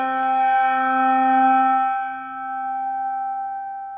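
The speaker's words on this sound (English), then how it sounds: "That's a high pitch. That's called the overtone." A struck bell rings out with a clear, high-pitched overtone that sustains and slowly fades, a single close tone heard alone without talk.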